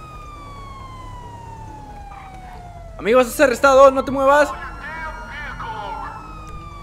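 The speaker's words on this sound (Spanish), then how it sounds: "Prendemos las sirenas." Police car sirens in GTA 5 wail as long falling tones throughout, joined midway by a short burst of loud, rapidly warbling siren, with someone talking over it.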